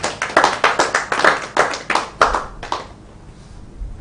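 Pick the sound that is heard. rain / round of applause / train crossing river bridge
round of applause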